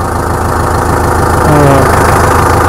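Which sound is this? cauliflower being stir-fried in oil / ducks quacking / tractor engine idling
tractor engine idling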